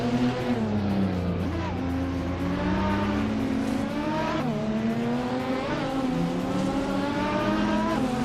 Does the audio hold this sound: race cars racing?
yes